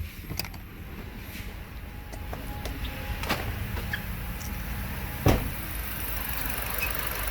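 A car's 4-cylinder engine idles roughly under the open hood, a steady low running hum with faint clicks and one sharp knock partway through, heard alone without talk.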